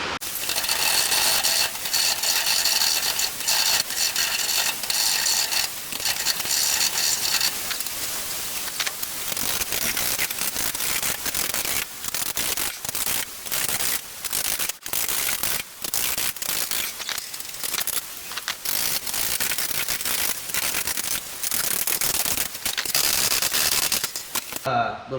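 A Ford Model A roof corner panel rolled back and forth through an English wheel, giving a continuous metallic rumbling hiss with irregular clicks and short gaps as the sheet is repositioned.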